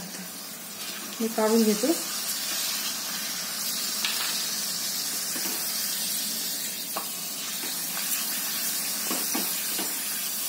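Papad sizzles as it fries in hot oil, a steady, hissing crackle with a few sharp pops and clatters while someone speaks briefly over it.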